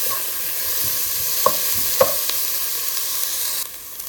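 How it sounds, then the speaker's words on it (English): Onions sautéing in a pan for a chana masala, a steady soft sizzle throughout with a couple of brief stirring clinks, close and alone with no talking. "Now let's saute the onions for a while, and let's make it little"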